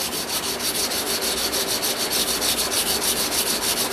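Hardened steel knife flats being sanded by hand with 120 grit sandpaper, a steady, close, continuous rasping rub with regular back-and-forth strokes, heard alone without any talking.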